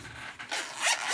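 A zipper on a handmade messenger bag being pulled open in short scraping bursts, close and fairly loud, with no talking.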